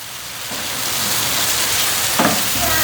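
Soya meat string-hopper kothu stirred and frying in a pan, giving a steady loud sizzle like rain throughout, with a few scraping stir strokes of the spoon and no talking.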